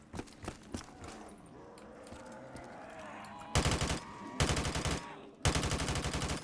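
Modern Warfare 3 AK-47 fired in Black Ops 3 Zombies on a custom Walking Dead map, heard as three loud, sustained automatic bursts in the second half, after quieter footsteps and game ambience.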